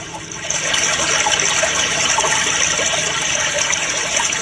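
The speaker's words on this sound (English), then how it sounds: "just turn on the water" Water runs steadily from a bathroom tap, probably filling a tub, in a loud continuous gushing rush with no talk over it.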